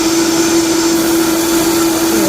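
A Vitamix blender running at its highest speed setting 10 while making tomato soup, a loud, steady, high-pitched motor whine with a constant tone, close and unbroken throughout.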